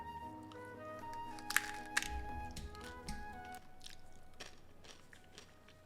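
Someone bites into crunchy homemade thin-crust pizza topped with shredded mozzarella, with two sharp crunches close together near the start followed by quieter chewing.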